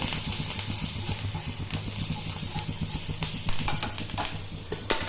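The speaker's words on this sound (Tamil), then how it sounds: "போட்டு கொஞ்சம் நல்லா வதக்கிட்டு" Green chillies sautéing in a pan for cucumber raita seasoning, a steady sizzle under repeated scraping stirs, close and fairly loud throughout.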